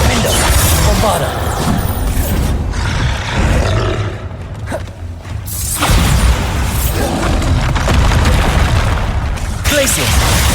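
Bombarda spell blasting a window in Hogwarts Legacy, loud booming crashes and roaring debris filling the clip amid dense game effects and music, with a brief dip before the noise surges again.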